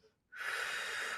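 A strong, breathy exhale during a core Pilates exercise, starting abruptly after a brief quiet moment and then holding steady as a loud, close rush of air without speech.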